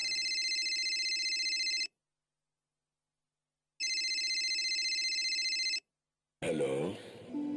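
A telephone rings for an incoming call in two long electronic bursts separated by a pause, loud and close, followed by a voice starting to speak.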